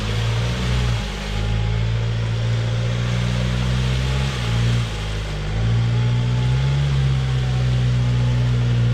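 A 4x4 engine labours loudly and continuously as the vehicle climbs a desert dune on a border track, the close drone wavering in pitch as the throttle is eased and reapplied.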